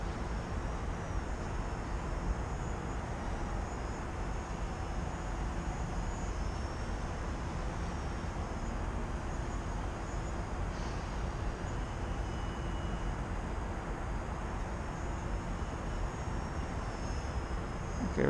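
A Twisted Hobbies Gee Bee 3D RC plane flies at a distance, its electric motor a steady, faint whine over outdoor background noise, with no talking.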